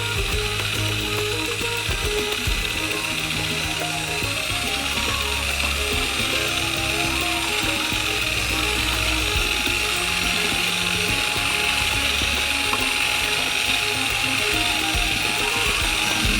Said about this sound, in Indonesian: tuangkan campuran secara bertahap sambil mencampurnya dengan mixer